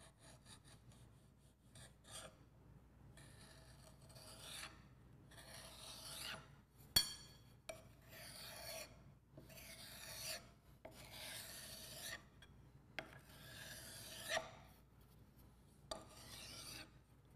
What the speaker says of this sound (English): Using the straight edge, trim smooth the top of the soil mold.